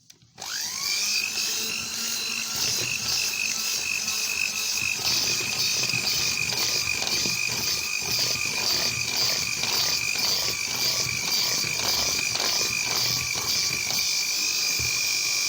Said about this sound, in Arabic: لازم نضرب في اتجاه واحد، ما ينفعش نضرب كده وكده